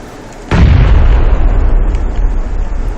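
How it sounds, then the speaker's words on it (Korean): A grenade goes off in the shooter game PUBG (Battlegrounds) with a single sudden, very loud boom that rolls on as a heavy rumble; no speech. "수류탄"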